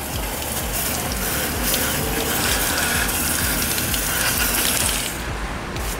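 Water gushes steadily onto a car in a continuous, loud broadband rush, with the spray thinning near the end.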